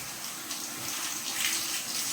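A large shower head pours water while a dog is bathed, a steady close rush of spray that swells slightly toward the end.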